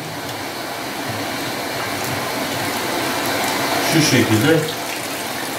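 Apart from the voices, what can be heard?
washing machine filling with water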